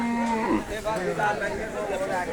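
A cow moos close by at a busy cattle market, one drawn-out low call that bends in pitch while market chatter and voices murmur underneath.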